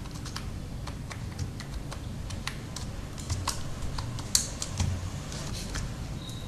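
Keys clatter on a computer keyboard while a password is typed in, irregular close clicks with a couple of louder taps near the end, all over a low steady hum and no voices.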